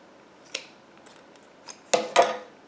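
Scissors snip through yarn tassels held on a tassel maker in a few sparse, quiet cuts, the last two sharper and louder, with no talking.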